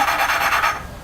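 Steady rasping scrape of a Honda part being lapped with fine grinding paste, a close, continuous rubbing noise with a gentle back-and-forth pulse and no voices.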